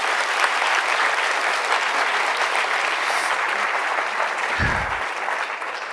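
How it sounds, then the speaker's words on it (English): An audience applauds with loud, sustained clapping that stays steady and dense throughout, and no voices come through. "So big round of applause to Ferran."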